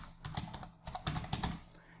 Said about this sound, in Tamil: இப்போ பார்த்தீங்கன்னா டைப் பண்ணுறேன்.